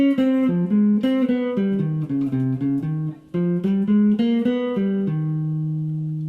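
Single-note jazz guitar phrase, a flowing line of clean, warm notes ending on a sustained tone, close and clear with no talking.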